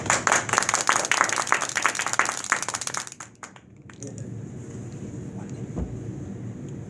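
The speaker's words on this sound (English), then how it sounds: "give her a round of applause" A small group applauds at a Toastmasters club meeting, a burst of close clapping that fades out after about three seconds, leaving quiet room noise with a faint hiss.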